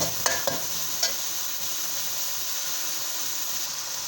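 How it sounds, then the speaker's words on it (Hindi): Chopped onions sautéing in a pot for handi kabab, a steady close hiss of sizzling with a few brief stirring clatters near the start. "उन प्याजों को अच्छे से सौटे कर लें, इसका कच्चापन खत्म हो जाए"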